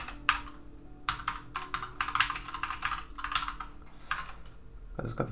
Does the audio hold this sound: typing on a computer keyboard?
yes